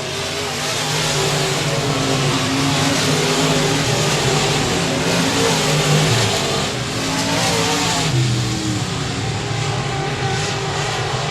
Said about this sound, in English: Armstrong mounting a charge on the 12 of Dustin Taterhide for the race lead